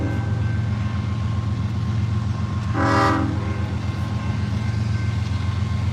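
A train rolls past close by with a loud, steady rumble of wagons, and a short horn blast rises above it midway through. No one speaks.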